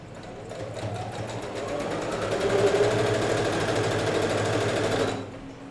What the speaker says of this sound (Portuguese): eu já tô costurando junto às alças.